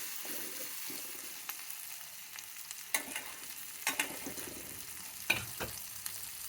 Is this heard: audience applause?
no